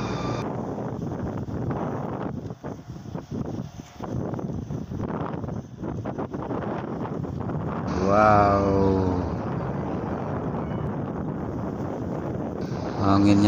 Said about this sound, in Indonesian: Anginnya kenceng banget.